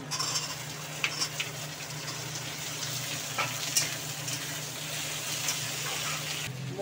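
Potatoes and eggplant hit hot oil in a pan with whiespice tempering and onions, giving a steady close sizzle with a few sharp crackles and spatters, no voices.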